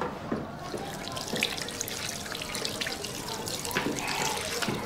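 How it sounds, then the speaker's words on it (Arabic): A tap runs steadily into a sink as someone washes their hands in a barber shop, a continuous close splashing wash with faint background noise. "ممكن نخش نغسل ايدي؟"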